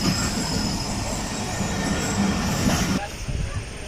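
The Shalimar Express passes with a loud, dense rail roar and high-pitched wheel squeal, heard close and continuous before easing slightly near the end.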